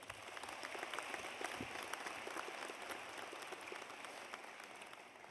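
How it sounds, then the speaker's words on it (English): Sustained applause from a commencement audience at Texas A&M University at Qatar, honouring the stage party and faculty: dense, steady clapping that fills the hall evenly, heard from a distance. "Please join me in another round of applause for the stage party and faculty."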